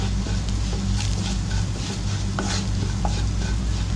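Garam masala is stirred into an egg and potato kabab mixture in a pan, a steady close scraping and stirring over a low, constant sizzle.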